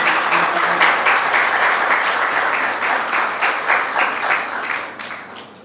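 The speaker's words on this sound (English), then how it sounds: "Really appreciate the applause." Applause from an audience at an international forensic science conference: a dense, even wash of many hands clapping, sustained and moderately loud, tapering slightly near the end.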